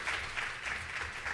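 Convention audience clapping for a panelist, a continuous, fairly distant wash of many hands applauding at an even level with no voices over it.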